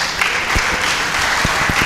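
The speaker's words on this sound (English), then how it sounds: "Give yourself a round of applause." Brief, steady applause from an audience at a business summit, many hands clapping in a dense even patter with a few sharper claps standing out.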